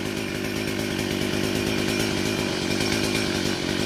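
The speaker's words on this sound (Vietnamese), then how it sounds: "nên thôi sẽ bật máy cưa lên hơi ồn" A chainsaw cutting into a leaning mango tree near a village embankment drones loudly and steadily throughout, a dense, unbroken motor buzz with no voices.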